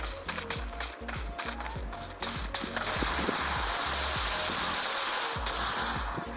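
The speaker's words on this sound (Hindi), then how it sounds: "मुझे फुट स्टेप की आवाज़ आते हैं" Rapid footsteps patter in a quick rhythm under PUBG Mobile Lite game ambience, then a rushing noise swells in and holds for a few seconds.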